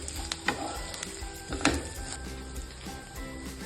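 Spices for mutton saaru sizzle and fry in a pan, a steady crackling hiss with occasional scrapes and clinks of stirring, close and alone.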